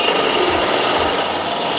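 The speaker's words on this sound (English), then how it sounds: "we got our fancy freaking tubing coper because we're done doing it by hand" A tubing coper notching steel tubing for a frame in a Mazda one-rotor car build, giving a loud, continuous grinding and cutting whine that runs steadily throughout with no voices.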